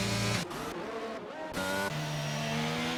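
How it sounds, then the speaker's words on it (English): Race cars in a racing video game running on a track during Portuguese GP qualifying, engines loud and droning with pitch shifts and a sharp change as one car passes close, no talk over it. "As we also have another car out on track, Jack O'Brien."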